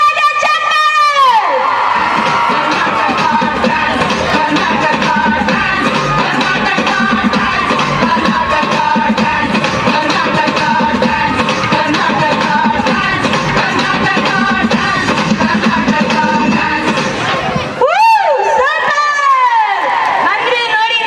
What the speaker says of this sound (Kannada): ಬನ್ನಿ ಒಂದು ಜೋರಾದ ಚಪ್ಪಾಳೆ.